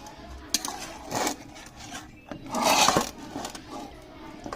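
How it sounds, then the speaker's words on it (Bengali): A metal spatula lays chicken pieces one or two at a time into a biryani pot, making short clinks and scrapes against the pot in separate bursts, with no talk. "তো এইভাবে আমি খুন্তি দিয়ে এক দু পিস করে তুলে তুলে দিয়ে দিব"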